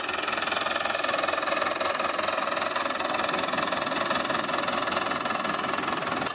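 A tractor engine idles steadily nearby, a constant rough mechanical drone with a faint knocking pulse and no change in pace, while the rotavator gear is engaged.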